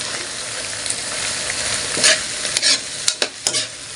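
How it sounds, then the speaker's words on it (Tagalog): Chopped shrimp sautéing in a pan, with an even sizzle broken by several sharp scrapes and clacks of a spatula stirring near the end, no voices. "So, gisa-gisa muna natin yung ating hipon."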